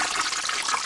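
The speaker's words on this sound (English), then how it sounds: "I hate to pour away good beer," Beer poured out of a glass, a steady broadband splashing gush of liquid running continuously and fairly loud for about a second, with no talk over it.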